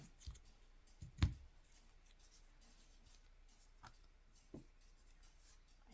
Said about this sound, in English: Let me try to cut it a little more circularly.